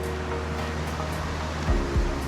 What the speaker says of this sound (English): This is a cool little waterfall right here.